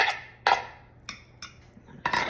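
Chopped egg whites for egg salad tossed into a bigger bowl, making a few sharp clinks and knocks of utensil on the dish separated by quiet gaps.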